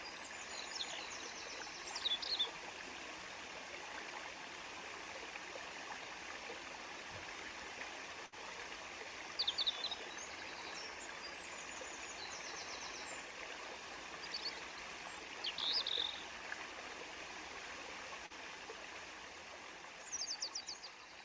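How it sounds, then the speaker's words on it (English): A waterfall and flowing stream make a steady, even rush of water throughout, with a few faint bird chirps breaking through now and then. "The waterfall was lovely."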